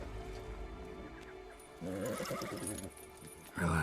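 A horse in The Witcher 3: Blood and Wine gives a loud, wavering neigh near the middle, with a second shorter whinny at the end over faint ambient game sound.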